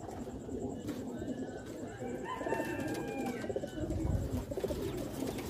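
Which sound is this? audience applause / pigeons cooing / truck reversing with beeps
pigeons cooing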